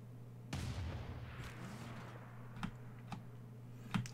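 Ranged city bombard attack in Civilization VI, heard as a few sharp booming thuds spread over several seconds, each a brief crack over a steady low game hum, moderately loud with no talk.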